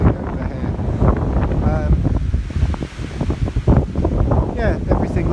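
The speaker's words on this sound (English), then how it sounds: "It is as windy as anything over here." Strong wind gusting across an open vegetable field with raised beds, a loud continuous rumble and buffeting against the microphone throughout, with someone talking over it.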